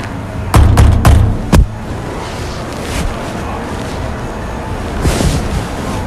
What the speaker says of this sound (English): Banging on a door.